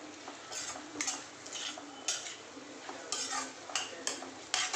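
Boiled potatoes with turmeric being stirred in a pan, a series of spoon scrapes and metallic clinks in uneven bursts over a faint sizzle, no talking.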